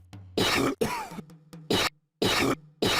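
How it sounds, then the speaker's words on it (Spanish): A string of harsh, loud, glitchy coughs from a character in Gabriel Knight: Sins of the Fathers, in short bursts separated by brief pauses, with a faint low hum between them. "La tos está bugueada."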